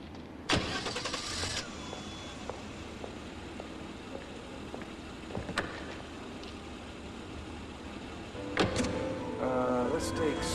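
A company car's engine cranks and catches, then idles and runs steadily with low rumble, a sharp door or window sound near the start and another burst of mechanical noise toward the end; some talking is mixed in.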